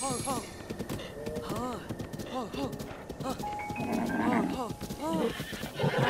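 A horse in Zelda: Breath of the Wild neighs repeatedly in quick whinnying bursts over clip-clopping hooves, with game music and a person's voice underneath.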